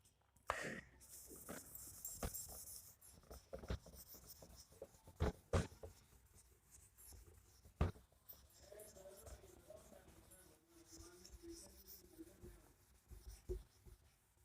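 Chalk or marker writing on a classroom board, scattered scratchy strokes and taps spread irregularly over the stretch, quiet and close, with faint murmured speech in places.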